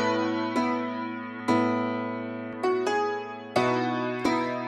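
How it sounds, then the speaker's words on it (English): Piano chords played through a vintage chorus effect for an older, wobbly tone, five soft, sustained strikes at an unhurried pace, each ringing out and decaying before the next, with no voices. "the Vintage Chorus plugin from FL Studio, which is adding this chorus effect, which makes it sound more like an older piano"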